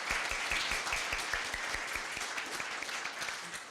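An audience at a Korea University evening gathering keeps up steady, dense applause throughout, with no voices over it.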